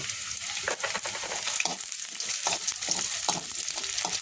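Fried onions with cracked cardamom, bay leaf, cinnamon and cloves are stirred in hot oil, giving a continuous close sizzle broken by repeated scraping strokes of a spoon across the pan at an uneven rhythm.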